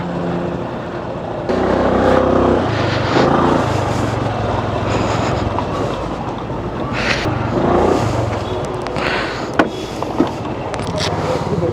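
A car engine rumbles steadily at close range as the vehicle is eased into a parking space behind other parked cars, with people talking inside over the hum.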